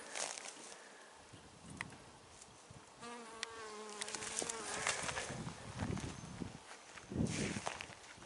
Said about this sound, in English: Another one of our honeybees.